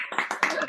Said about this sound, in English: can you unmute yourself and then clap?